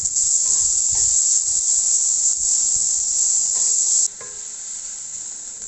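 A steady, bright sizzle of onions frying in a pan, continuous and close, dropping to a quieter hiss near the end.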